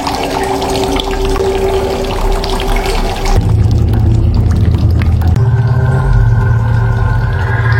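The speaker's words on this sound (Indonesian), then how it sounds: "tiba-tiba mendengar suara keran mengalir" Bathroom faucet running, a loud continuous rush of water that changes tone twice as the flow shifts, heard close and alone without voices.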